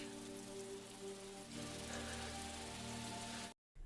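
Steady rainfall, a dense even hiss of drops hitting surfaces, with a low hum under it, ending in a brief moment of silence before resuming.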